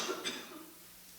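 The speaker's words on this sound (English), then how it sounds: "the coughing" A single cough in a quiet sitting room, sharp and moderately close, followed by fading stillness with no talk.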